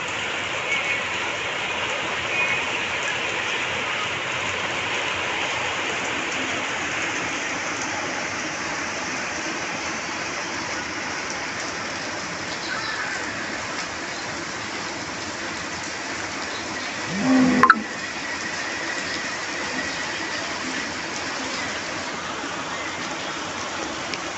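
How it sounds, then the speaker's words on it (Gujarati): Afternoon rain at a farm plot falls again in a long, steady wash of drops on surfaces, with a brief louder knock or rustle near the end and a faint voice underneath. "આવી ગયો પાછો વરસાદ, આપણે બેઠા બાયરે।"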